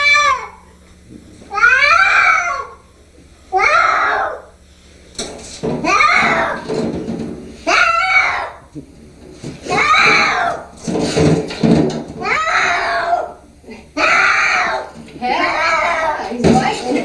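A cat meows and caterwauls in repeated drawn-out, wavering cries separated by short pauses, loud and close, with a person speaking briefly between some of the calls.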